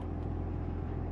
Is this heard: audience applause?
no